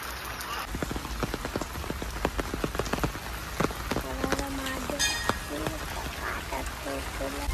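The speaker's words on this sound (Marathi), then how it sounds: "पूर्ण अख्खा दिवस पाऊस पडतोय." Steady rain falls all day, a dense patter of drops on surfaces close by, while people talk over it and a child is coaxed throughout.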